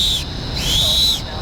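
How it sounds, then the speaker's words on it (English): A referee's whistle blown on an outdoor soccer field, two shrill sustained blasts in quick succession, loud and close over a steady outdoor background. "Do the first whistle."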